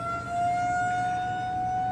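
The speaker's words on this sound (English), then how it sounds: "they're testing the tornado sirens" Outdoor tornado warning sirens sound during a scheduled morning test, a steady, sustained wailing tone that holds unbroken and fairly loud for the whole stretch, with no voices over it.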